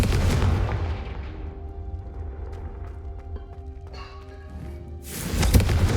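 A Confringo spell explosion in Hogwarts Legacy, a deep booming blast that fades into a lingering rumble with faint chimes, followed by another loud surge of noise near the end.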